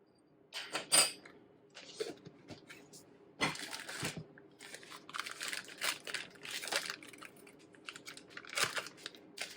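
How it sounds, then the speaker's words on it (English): Raisins tipped into a bowl of cinnamon roll oatmeal, heard as close, dry crinkling and rustling bursts with small taps, irregular and fairly quiet throughout with no talking. "I'm going to put in 2 tablespoons of raisins."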